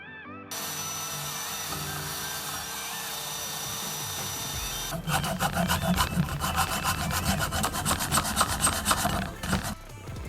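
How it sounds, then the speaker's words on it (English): A metal wire brush scrubs rust off the rear brake carrier of a Ford Focus III where the pads sit. After a quieter stretch, fast, rhythmic, close-up scraping strokes continue steadily for about five seconds. "Using metal wire brush, remove rust from place where brake pads meets brake carrier."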